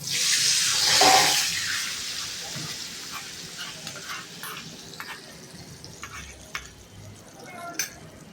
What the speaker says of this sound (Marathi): आता हा तडका आपल्याला त्याच्यावर टाकायचा.